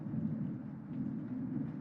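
Thunder rumbles from a storm in a cooking video game, a low continuous roll of moderate loudness with no speech over it.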